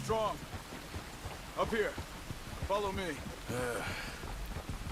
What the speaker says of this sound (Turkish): Yağmurda bastırdı.